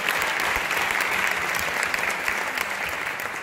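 Audience at a round-table event on technology and creativity applauding as a chef, David de Jorge, takes the stage; dense, sustained clapping throughout, bright and even.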